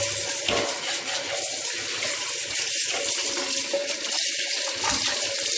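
Tap water runs hard and steady over kitchen containers being washed in a sink, a loud continuous splashing rush with no speech.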